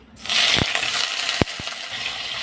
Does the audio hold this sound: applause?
no